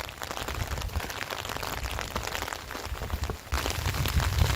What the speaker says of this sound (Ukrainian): наче був не сильний дощик, а зараз знов зарядив